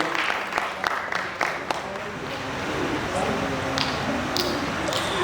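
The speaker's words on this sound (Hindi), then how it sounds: "जोरदार तालियां होनी चाहिए।" A theatre audience at a play performance in Patna claps steadily, dense applause at moderate volume carrying on throughout with a few sharper individual claps.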